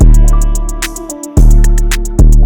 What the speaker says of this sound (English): The open hat makes the 808 so much better